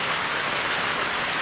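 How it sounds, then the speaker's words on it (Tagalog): Heavy rain falls steadily and densely around a cool bamboo house, a continuous loud hiss with no pauses or voices. "Ayan, lumalakas lalo ulan mga kaibigan."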